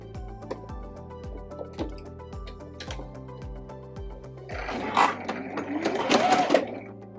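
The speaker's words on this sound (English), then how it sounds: "zigzag the top edge of both pieces of fabric and then down one side until I get to the pin" Sewing machine zigzag stitching along the edges of two fabric pieces for a bread bag, running at a quick regular rhythm, followed near the end by louder rustling and handling of the cloth.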